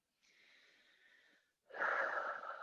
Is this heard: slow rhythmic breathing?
yes